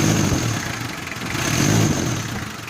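A Mitsubishi 4D56 diesel engine revs with its fuel pump's enrichment screw turned down, rising and falling twice in loud, close, slightly labored surges with a steady high whine over the rumble and no one talking.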